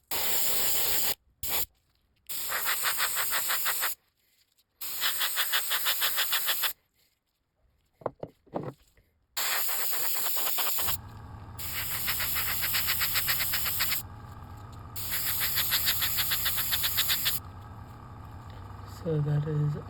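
An airbrush sprays the final paint coat onto a swimbait fishing lure in repeated bursts of steady hissing spray, each lasting a second or two and separated by short pauses, close and loud, with some low background hum and no talking.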